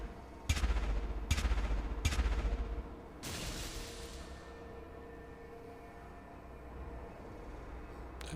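Gunfire in the VR shooter Of Lies and Rain: three sharp, loud shots spaced about a second apart, then a longer burst of fire fading into a low ambient hum.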